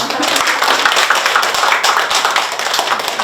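An audience at a memorial exhibition opening breaks into sustained, dense applause, many hands clapping loudly and evenly for a few seconds with no talk.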